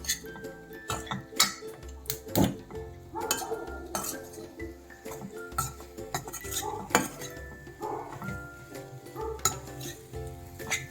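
Potato pieces coated in salt and chilli fry in a pan for aloo ullikaram, with frequent close clinks and scrapes of a metal spoon against the pan over a low sizzle, no voices.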